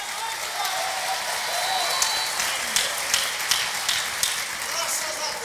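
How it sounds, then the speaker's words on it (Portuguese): A church congregation claps during a sermon, a continuous wash of applause with a few sharper claps standing out, fairly distant and moderate in level, with speech heard over it. "Forte esse aplauso ao Senhor, forte esse aplauso."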